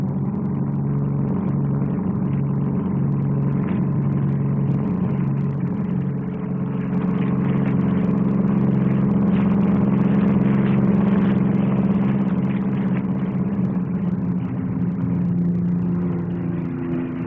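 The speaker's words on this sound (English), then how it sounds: "A circus of helicopters, 8 in the air at once, from Westlands and Saunders Row." Several helicopters from Westland and Saunders-Roe fly together at the 1959 SBAC Farnborough air display, a steady loud engine and rotor drone with throbbing low tones that swells slightly mid-way and holds without pause.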